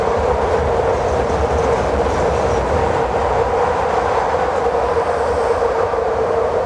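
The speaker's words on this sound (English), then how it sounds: "This train go by" A train rumbles past outdoors in the Badlands, a loud, steady, continuous roar of wheels and cars lasting throughout with no break.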